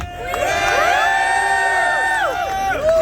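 A large political rally crowd in Brooklyn, New York cheers loudly, with sustained shouts and whoops forming a dense, continuous roar.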